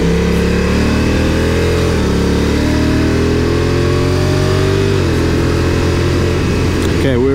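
A Honda NT1100 motorcycle engine pulls hard on a highway with a loud, steady drone that rises in pitch and dips at each gear change, all under heavy rushing wind noise.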